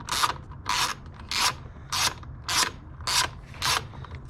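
A tool works loose a Forge blow off valve fitting on a Fiat 124 Spider, giving seven evenly spaced scraping, ratcheting strokes about half a second apart, close and moderately loud with no talk.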